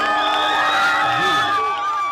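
Crowds in the streets of Athens celebrating the same-sex marriage vote, a steady wash of cheering and whooping with voices rising above it, heard at a distance.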